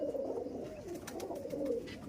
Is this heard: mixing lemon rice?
no